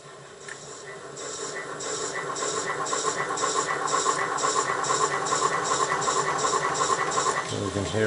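Model train locomotive running on a DCC decoder turned up to a much louder sound volume, giving a steady mechanical chuffing and rhythmic clicking that builds and holds at a fairly loud level throughout.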